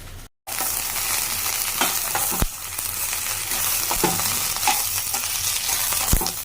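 Garlic, ginger and cumin paste frying in a pan, a steady close sizzle running throughout with occasional sharp clinks of a spatula against the pan, no talking.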